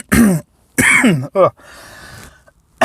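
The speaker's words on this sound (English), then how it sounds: "I just coughed inside of your brain" A man coughs and clears his throat in a few loud, close bursts, each separated by short silences, with a brief stretch of soft hiss between them.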